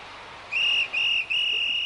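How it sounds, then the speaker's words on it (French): A referee's whistle at a football match signals the end of the first half with three shrill blasts, the first short and the last held longest, loud and clear over faint crowd ambience. "L'arbitre siffle la fin de la première mi-temps."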